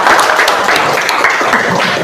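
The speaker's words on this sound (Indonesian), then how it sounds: "Tepuk tangan buat Patan" Classroom applause for a student during a physics lesson on heat and expansion, a dense, steady patter of many hands clapping close by for about two seconds, with no speech over it.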